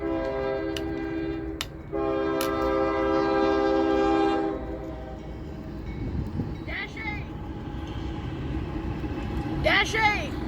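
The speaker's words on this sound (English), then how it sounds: "The next train is M326 again, with a YN2-8." CSX freight train M326 on the Grand Rapids subdivision, led with a YN2-8 Dash 8 locomotive: a loud multi-tone horn blasts for several seconds, then the train rumbles past with clanking wheels and squeals as someone talks over it.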